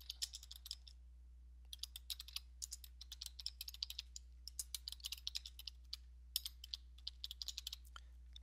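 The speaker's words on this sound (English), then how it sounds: "I'm going to click on the screen and type some text in." Computer keyboard typing while entering text in SAI Flexi Designer sign software: bursts of quick, light key clicks in uneven runs with short pauses, close and fairly faint over a steady low hum, no talking.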